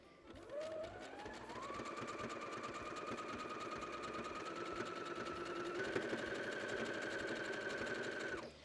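An electric sewing machine stitches a lace-trimmed sewing machine cover: a continuous rapid mechanical whir that starts up, holds steady, then rises slightly in speed, close and moderately quiet with no talking.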